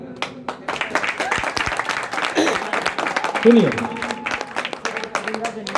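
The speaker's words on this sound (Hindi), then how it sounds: "ताली यहाँ चाहिए।" Audience applause at a Hindi poetry recital (kavi sammelan): a dense crowd of clapping hands rising and staying fairly loud throughout, with a voice speaking briefly over it.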